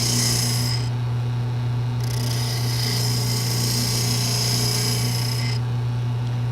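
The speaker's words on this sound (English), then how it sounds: "now I'll use a spindle gouge to finish shaping the top of the holder" A spindle gouge cutting a wooden lid on a spinning lathe, a steady motor hum beneath bursts of bright hissing shavings as light passes start and stop.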